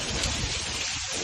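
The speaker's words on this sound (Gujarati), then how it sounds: "જો ભાઈ અટાણે વરસાદ છે ફૂલ ચાલુ" Heavy rain pours down in a steady, dense roar of drops drumming on surfaces close by, with no break across the short stretch.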